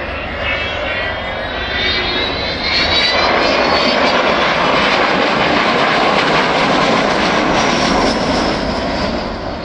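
Avro Vulcan XH558 jet bomber engines roar up to takeoff power at an RAF Waddington airshow, a loud, sustained, rising jet rumble with a broad hissing whine that swells and holds steady throughout.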